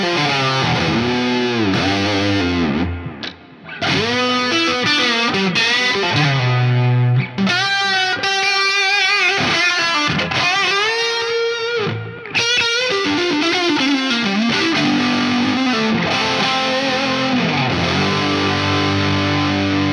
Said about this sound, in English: And finally, some plate reverb.